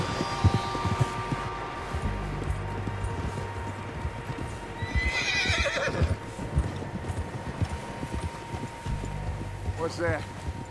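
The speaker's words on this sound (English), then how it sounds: "Horses, quite a few of them." Horses neigh and whinny amid steady clip-clopping hooves in Red Dead Redemption 2, with a loud whinny near the end over a busy, rumbling background.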